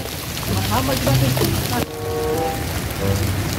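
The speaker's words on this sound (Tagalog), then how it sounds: "Ang lakas ng ulan" Steady heavy rain hisses across the whole clip, a dense wash of noise with brief voices murmuring underneath.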